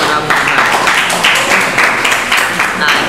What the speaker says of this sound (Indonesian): Tepuk tangan kepada Bung Farhan.